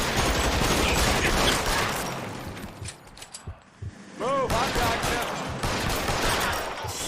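Bursts of rapid gunfire in the video game L.A. Noire, loud at first, fading into quieter clicks and mechanical sounds before heavy firing resumes, with a brief voice in between.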